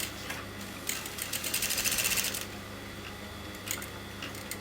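A sewing machine stitches through canvas laid on lining down the center of a kameez piece, a close steady whir that swells in the middle and fades to a lighter hum.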